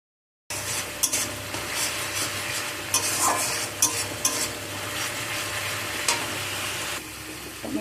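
Tomatoes sauté in a pan for a fish curry, a steady sizzle under repeated scrapes and clinks of a spoon stirring against the metal, close and fairly loud after a brief silent start.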